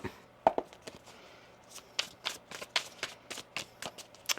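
A deck of tarot cards being shuffled close by, a string of quick riffling bursts and soft card taps repeating at an irregular pace, fairly quiet with no talking.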